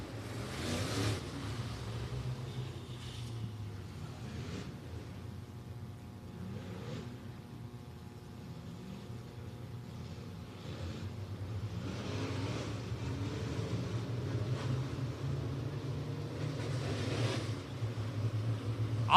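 AAS heat race cars circling the track at Bristol Motor Speedway, a distant, steady engine drone that swells slightly as the cars pass, faint beneath a low background hum for the whole stretch.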